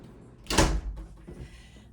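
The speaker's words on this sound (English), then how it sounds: "let me close my door" An indoor room door is pushed shut: one close, loud, heavy thud, then a softer knock as it settles, in a quiet room with no talking.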